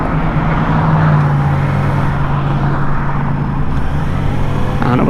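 A 2015 Yamaha FZ6R motorcycle engine hums steadily and loudly from close by as the rider downshifts, with a brief change in pitch near the end and no talking.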